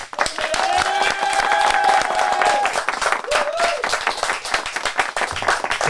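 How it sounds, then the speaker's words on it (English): A podcast studio audience claps and cheers to welcome a guest, lively hand claps mixed with whoops and voices calling out, fairly close and loud. "Big round of applause, Mr. APLFI."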